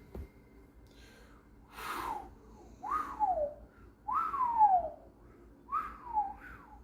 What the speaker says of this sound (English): I can still whistle